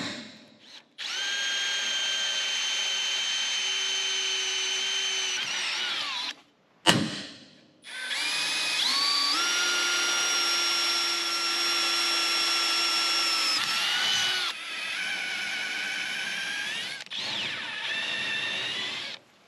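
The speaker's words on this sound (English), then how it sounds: "I'm just going to go ahead and drill a gas expansion hole, the 1/8 inch drill bit, right in the center on both sides" A power drill with a 1/8 inch bit bores gas expansion holes in steel roll cage tubing for a Chevelle floor structure, three sustained high whining runs with brief pauses between, loud and close, with no talking.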